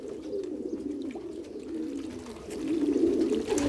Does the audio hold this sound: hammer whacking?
no